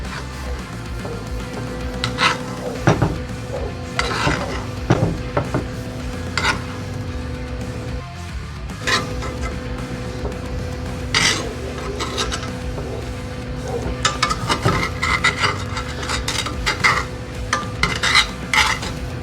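Sirloin steaks basted in a pan straight from the oven: repeated spoon scrapes and clinks against the pan over a low steady sizzle, close up and without talk.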